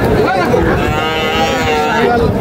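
A loud, close cow moos in a long drawn-out call at the Choubaria cattle market, with faint crowd murmur and other livestock noise from calves and bulls behind it.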